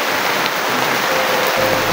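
Heavy rain pours steadily, a dense, loud hiss of drops striking surfaces with no pauses.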